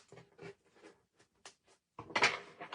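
Tarot cards being shuffled by hand in a quiet room, a series of soft papery riffles and slaps that builds to a louder, denser burst of shuffling near the end.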